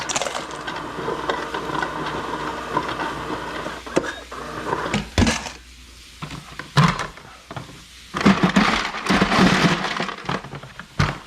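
Ice cubes are scooped into a bowl in a home kitchen, giving a run of sharp clinks, cracks and rattling knocks in uneven bursts, with a few quiet pauses between them.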